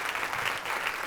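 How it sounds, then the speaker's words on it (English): A steady wash of audience applause after a lecture, many hands clapping together at a moderate distance. "Everyone give a big round of applause."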